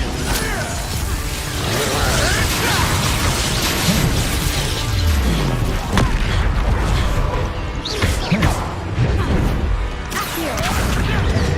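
Expulso spell explosions in the Hogwarts Legacy video game, repeated booming blasts and crashes amid dense battle effects, with a voice speaking over the action.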